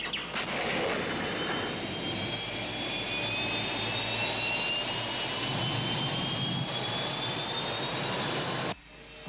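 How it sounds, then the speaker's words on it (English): Rescue spaceship engine from a 1970s TV sci-fi series, a loud continuous jet-like roar with rising whine tones sustained for about nine seconds, cutting off abruptly near the end, no voices. "Rescue ship moving."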